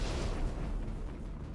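Gunfire in the video game Mass Effect sounds as muffled, distant booms and bursts in a short stretch, with no speech.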